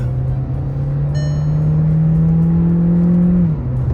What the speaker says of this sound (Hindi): क्रेजी आवाज यार इंजन की